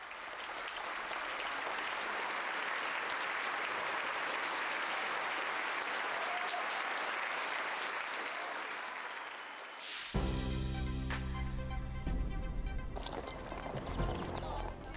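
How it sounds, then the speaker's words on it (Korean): Audience applauding a children's choir performance in a concert hall, sustained dense clapping for about ten seconds, then the applause gives way to a sharper, more rhythmic ending with a few louder claps. "자리에서 하나 둘씩 일어나며 관객들은 아낌없이 박수를 보냅니다."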